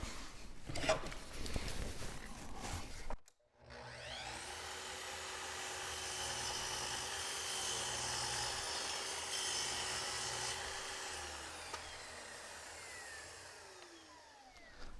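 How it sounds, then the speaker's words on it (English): A miter saw set to a 30-degree angle spins up and cuts through a clamped workpiece, a steady loud whine and rasp that lasts several seconds before winding down, with a brief clatter beforehand and no talking. "I'll use my clamp to hold it in place while I make this cut."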